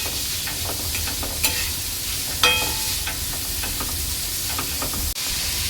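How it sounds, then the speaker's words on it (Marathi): Onion and finely chopped green chili fry in hot oil with a constant close sizzle and hiss, broken by occasional scrapes and clinks of stirring and one sharp knock near the end, with no voices. "तर ह्यामध्ये टाकणार आहे मी कांदा आणि बारीक चिरलेली मिरची।"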